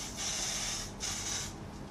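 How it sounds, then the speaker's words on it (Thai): Hairspray hisses onto hair in two close, loud aerosol bursts, each lasting roughly half a second with a short pause between them. "อัดสเปรย์ที่ผมนะคะ"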